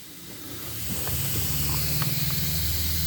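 Compressed air hisses steadily from a hose fitting on a DIY spark plug compression chamber, a broad continuous rush that builds over a couple of seconds, with a low hum and a few faint clicks.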